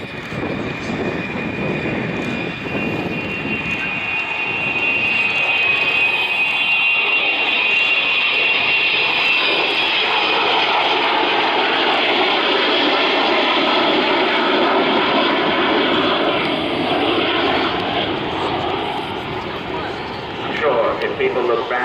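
An Avro Vulcan XH558 delta-wing jet bomber flies a display at Dunsfold on 25 August 2013. Its loud, broad jet roar swells over several seconds and holds steady for most of the pass before easing slightly.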